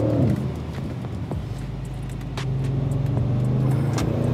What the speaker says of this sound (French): on va rétrograder et les reprises sont évidemment foudroyantes aussi